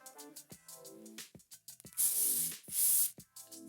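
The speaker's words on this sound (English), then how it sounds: "I'm actually gonna spray the hairspray underneath" Hairspray from an aerosol can hisses in two short bursts, each about half a second, sprayed underneath the hair at the roots. The bursts come between spoken instructions.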